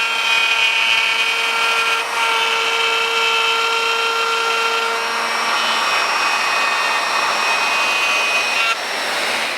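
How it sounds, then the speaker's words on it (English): A router cuts a blind sliding dovetail on a Leigh DR4 Pro dovetail jig: a loud, steady high-pitched whine with a dense cutting roar that runs for the whole stretch, dipping briefly near the end. "we're going to route across, and we're going to stop when the centre point of my router lines up with that mark"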